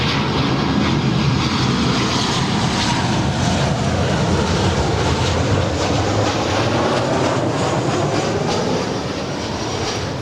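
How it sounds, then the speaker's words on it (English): A Delta Boeing 737-900ER jet landing at LAX after arriving from Orlando, its engines roaring loudly and steadily throughout with a broad, rushing whine that eases slightly near the end. "That is Delta 2901 coming in from Orlando, Florida. It's a 737-900ER."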